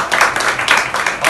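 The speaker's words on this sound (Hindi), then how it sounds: "आपकी तालियां होनी चाहिए उनके लिए" Brief burst of audience clapping for a chief guest at a film success celebration, loud and close with individual claps pulsing unevenly.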